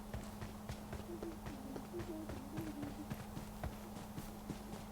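Rapid, quiet footsteps of the player's own character in the video game PUBG, a steady patter of many quick steps over a constant low game hum.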